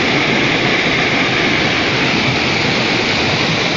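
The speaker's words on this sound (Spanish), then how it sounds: "Miren cómo se ve la cascada." The Huexocoapan waterfall in Atlixco, Mexico, roars in a dense, steady rush of water, loud and close, with no voices.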